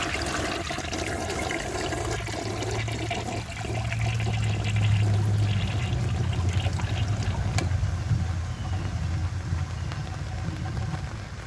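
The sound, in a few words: 1982 Crane Dalton toilet flushing with a dry bowl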